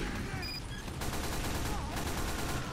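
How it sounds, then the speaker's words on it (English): Rapid gunfire in the video game Team Fortress 2, dense overlapping shots and bursts with sharp pitched effects, loud and continuous across the short clip. "Stop shooting at me"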